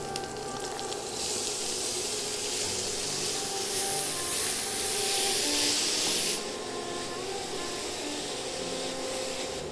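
Chopped carrots and beetroot sizzle in a pan for vegetable chops, a steady, close, loud frying hiss that swells for a few seconds and then settles.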